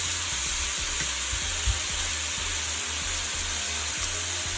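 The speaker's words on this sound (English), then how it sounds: "I'm gonna let that caramelize on the other side for another 5 minutes" Chicken for Jamaican brown stew chicken fries and caramelizes in a pan, a steady close sizzle and crackle with small pops throughout, no talking.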